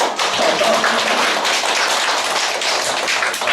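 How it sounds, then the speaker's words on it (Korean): A lecture audience claps together for a few seconds, a dense, steady burst of hands with no break and no voices over it. "그러니까 여러분한테 박수를 좀 쳐줘야 돼요."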